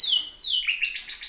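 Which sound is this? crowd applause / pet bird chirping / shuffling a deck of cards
pet bird chirping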